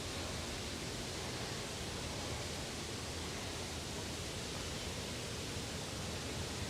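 Water flows steadily from a source in Central Park, a soft, constant rushing hiss that stays even and unbroken throughout.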